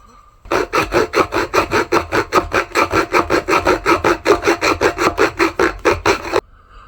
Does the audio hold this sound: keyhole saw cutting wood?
yes